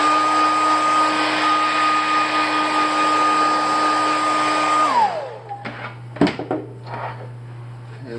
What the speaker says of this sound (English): Just use a hairdryer.